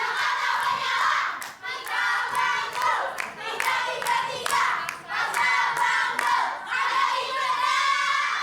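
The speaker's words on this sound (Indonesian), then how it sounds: "kita berikan tepuk tangan untuk ketiga calon" A studio audience at a televised Jakarta election talk show applauds the three candidates, with sustained clapping and some cheering that surges in several waves, loud and close with no speech over it.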